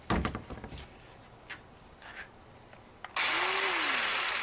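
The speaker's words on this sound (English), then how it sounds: "now I'm just gonna give it a little test here with the 20-volt battery." A Black+Decker 20V cordless chainsaw with a fresh chain is test run: a few handling knocks and clicks, then the motor abruptly whirs up into a loud, steady high-pitched whine with a rising and falling pitch sweep.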